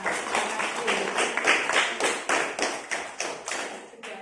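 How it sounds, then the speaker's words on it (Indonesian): A group in a school gathering claps together, a steady run of sharp hand claps repeating for about four seconds and fading slightly at the end. "Tepuk tangan untuk kita semua."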